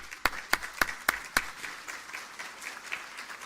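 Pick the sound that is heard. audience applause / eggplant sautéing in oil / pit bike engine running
audience applause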